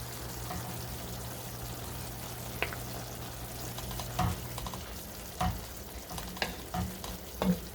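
Flat beans and potatoes with mustard paste are stirred in a pan over a low, steady sizzle, with scraping strokes and clinks coming at irregular intervals.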